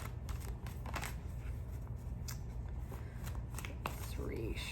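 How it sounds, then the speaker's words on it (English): Tarot and oracle cards being shuffled by hand, a soft steady riffling and slapping of card stock that runs close and continuous under a low background hum, with a few sharper flicks. "That's too many cards. Let's just reshuffle."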